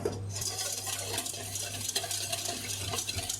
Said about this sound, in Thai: ในเวลาตุ๋นนะคะเราจะ ใช้ตะกร้อมือเนี่ยนะคะ คนส่วนผสมตลอดนะคะ